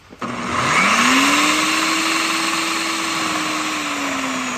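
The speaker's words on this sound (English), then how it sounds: "It's your blender, not your stand mixer" A blender shredding cooked chicken starts with a rising whir and settles into a loud, steady high-pitched motor drone that runs without pause.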